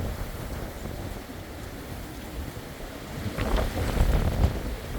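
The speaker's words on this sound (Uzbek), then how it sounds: "Juda qattiq shamol, daraxtlar mana shunaqa tebranish" Strong tornado wind in America roars steadily through trees and buffets the microphone, swelling louder and gustier toward the end.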